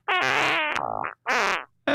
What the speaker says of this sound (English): Alien fart. I like my alien fart.